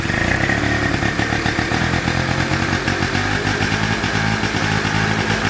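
A Yamaha Riva Razz scooter engine runs steadily nearby after a carburetor needle adjustment, a loud, continuous buzzing putter with a slightly rough, uneven idle throughout and no talk.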